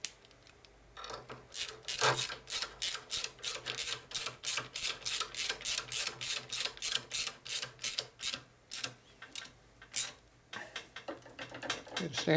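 A ratchet wrench tightens the kickstand bolt on a custom Harley Evo rigid bobber chopper, clicking in a fast, steady run of close, crisp strokes that slows and stops near the end.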